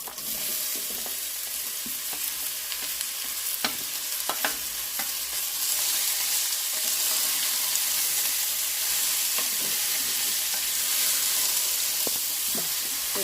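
Bottle gourd pieces tipped into a pan of softened frying onions, giving a steady loud sizzle and hiss throughout, with occasional clacks of a spatula stirring, close and without talk.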